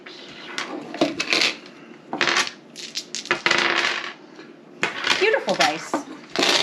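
Dice rattle and clatter onto a table during a home dice game, several sharp bursts of tumbling clicks separated by brief pauses, close and fairly loud.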